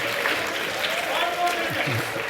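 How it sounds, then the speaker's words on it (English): Audience applause at the CPAK 2016 conference, a steady wash of clapping lasting the whole moment, with voices talking over it. "round of applause here."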